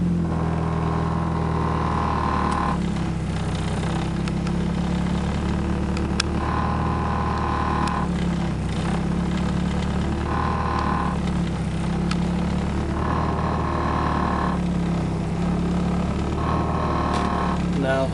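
A 1993 Mazda FD3S RX-7 rotary engine idles steadily, a constant low hum with a slightly wavering pitch as the revs settle, under intermittent male speech.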